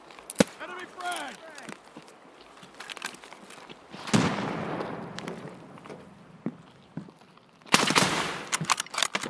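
Enemy frag grenade bursts in the shooter Escape From Tarkov, a sharp blast at about four seconds and another near eight, each with a rumbling tail, among scattered gunfire, footsteps and a player talking.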